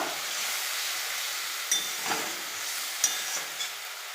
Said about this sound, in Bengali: জল নেব একটু, দিয়ে মশলাটাকে ভালো করে নাড়াচাড়া করে নেব